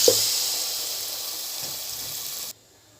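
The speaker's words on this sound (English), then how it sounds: "Now at this stage we have to add the water." Water poured into hot oil in a pan while cooking nalli bhindi gravy with mutton shanks, giving a loud, even hiss and sizzle that runs for a few seconds, then cuts off abruptly to near silence.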